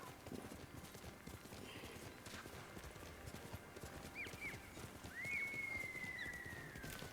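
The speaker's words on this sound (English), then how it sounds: "Let's get on the horse and go over there" A horse's hooves clip-clop at a steady riding pace in the video game Ghost of Tsushima, over a bed of wind and rain-like ambience, with faint whistling tones later.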